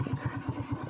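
A small motor idles close by beside a fishing spot after rain, its steady low chugging pulses evenly repeating for about a second with no talk.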